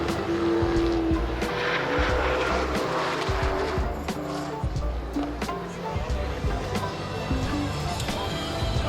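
A Lamborghini Huracan Evo and other cars scream past at speed on a race track during a track day, with loud continuous engine roar, tire squeal and a close, sustained pass.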